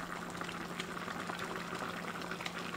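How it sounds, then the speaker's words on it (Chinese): A pot of potatoes and pickled cabbage stews at a steady boil, with continuous close bubbling and soft popping and no voices. "再把酸菜炖四五分钟。"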